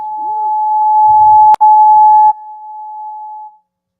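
A steady telephone ring tone sounds loud and alone with a single pitch, broken by a sharp click partway through, then continues more quietly before stopping.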